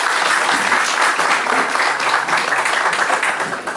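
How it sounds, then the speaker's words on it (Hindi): Sustained, dense audience applause fills a hall after a legal talk by a justice, steady and loud throughout with no voices on top. "जोरदार तालियों के साथ आदरणीय न्यायमूर्ति जसप्रीत सिंह साहब का धन्यवाद."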